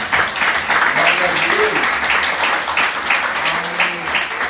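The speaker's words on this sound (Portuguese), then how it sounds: "Será que você pode dar uma salva de palmas ao Senhor?" A church congregation applauds the Lord during a worship service, a dense, sustained wash of many hands clapping that fills the room from start to finish, with voices mixed in.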